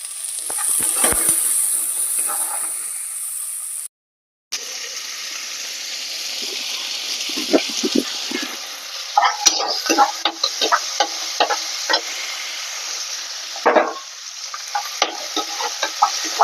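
Chili and garlic crackle in hot oil with browned onions for a Tamil fish curry, a dense, close sizzle broken by a brief gap, then bursts of stirring scrapes and clatter.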